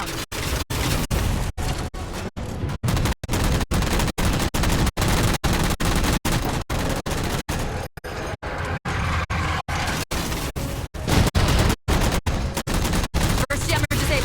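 Rapid, relentless automatic gunfire in the video game Halo 4, aimed at shooting down jammers, with loud close bursts continuing almost without pause and occasional heavier booms.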